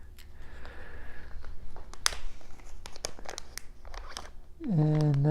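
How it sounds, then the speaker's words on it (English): A plastic parts bag for a Creality Ender 3 3D printer build being opened, giving scattered crinkling and rustling bursts up close before a louder tonal sound at the end. "If I could open up the plastic bag."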